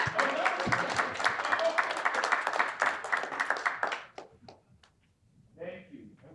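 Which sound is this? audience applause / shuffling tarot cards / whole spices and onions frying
audience applause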